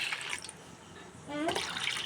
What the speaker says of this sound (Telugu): బిస్కెట్ వెయిట్ చేసుకున్నాక మనకు కావాల్సినంత వాటర్ యాడ్ చేసుకోవాలి